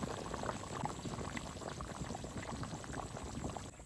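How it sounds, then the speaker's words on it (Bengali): Hilsa fish red curry simmering in an uncovered pot on the stove, a steady dense bubbling and hiss that continues evenly throughout, close and moderately loud with no voices. "ঢাকনা খুলে দিয়েছি, এবার আর একটু জাল দেবো, তাহলে আমার মাছের ঝোল রান্না হয়ে যাবে।"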